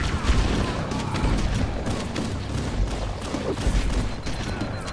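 Gunfire in the video game Halo CE, on the Legendary difficulty 343 Guilty Spark level, crackles in dense, loud bursts of overlapping shots and booms that run continuously through the whole stretch.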